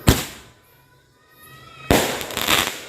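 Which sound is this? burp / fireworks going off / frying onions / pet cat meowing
fireworks going off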